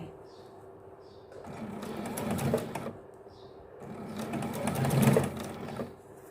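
A sewing machine stitches a shirt collar at a slow pace in two long runs, its motor rising and falling with a steady mechanical whir, heard close with a faint voice in the background.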